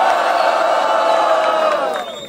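A rap battle crowd at the Batalha da Leste in Londrina roars and shouts in a loud, sustained wall of cheering that trails off at the very end.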